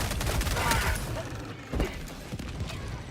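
A short volley of loud, crackling gunfire from a gun in Helldivers 2 on Helldive difficulty 9, the shots coming in quick clusters amid chaotic combat noise.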